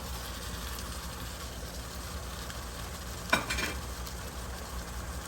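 Tomatoes fry in a pan of homemade sausage, giving a steady broadband sizzle with a brief louder stir or clatter partway through.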